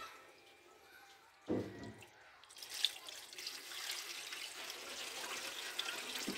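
Water drains from the cowl drain beneath the passenger side of a car, a soft trickle and splash rising after a sudden knock, then running as a steady gentle stream close by.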